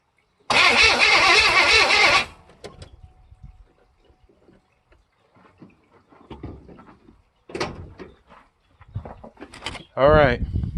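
K5 Blazer engine cranking loudly for about two seconds without starting, followed by quieter clunks and shuffling, a short voice and another burst of noise near the end.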